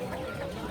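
Ducks and geese crowded together at a Navoi poultry market give a brief burst of dense, overlapping squawks and clucks, steady and close, with no voices.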